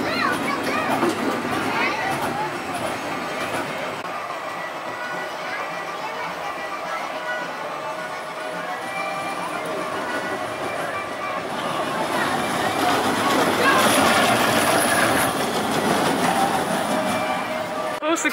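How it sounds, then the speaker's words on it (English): Outpost Express, a kiddie roller coaster at Wild Adventures in Valdosta, Georgia, rumbles and clacks along its track in a steady rolling wash that swells louder near the end, with crowd chatter and voices mixed throughout. "Outpost Express, let's give it a try. A big coaster for little adventurers."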